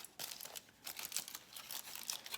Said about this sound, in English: I'm going to crinkle it. You want to be careful not to tear your foil though